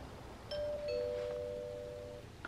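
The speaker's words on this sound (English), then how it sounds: "The doorbell rang." A doorbell chimes once, two soft overlapping tones ringing out and slowly fading in an otherwise quiet room.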